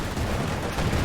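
World War II game artillery barrage: a continuous rumble of overlapping distant shell impacts and gunfire, dense and steady, loud with no clear gaps.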